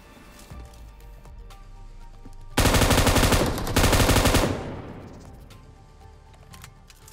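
Rapid automatic gunfire from a shooter video game, a loud sustained burst of about two seconds, a brief pause, then a second burst, with quieter game ambience before and after.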